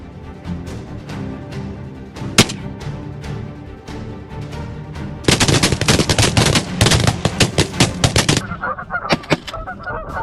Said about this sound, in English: Firearm hunting provides a quick and effective method to reduce snow goose populations.